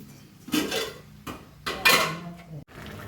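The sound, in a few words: straining water from boiled rice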